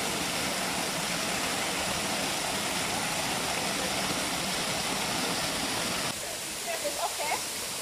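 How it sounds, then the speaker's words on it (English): A waterfall in the Kingstown Forest Reserve, St. Vincent, roars as a continuous close rush of falling water, dipping slightly near the end while a voice speaks faintly over it. "Beautiful waterfall."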